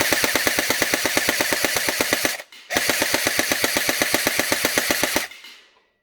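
A WAT Kublai MK18 full metal gel blaster fires full-auto through a chronograph, two loud, rapid bursts of evenly spaced shots split by a brief pause, the second ending with a short mechanical wind-down.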